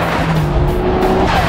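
A Nissan Skyline R34 GT-R engine pulls hard and loud and close for a brief moment, its steady drone joined by a higher tire-like whine.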